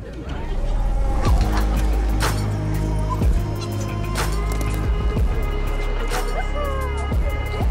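A dog barks in a series of sharp, loud, separate barks spread across the moment, with other animal or honking noises and some voices around it.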